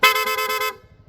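Aftermarket rapid horn on a Honda Giorno scooter, high tone, blasting about six quick loud pulses in a steady stutter for under a second before cutting off, with faint background noise trailing after.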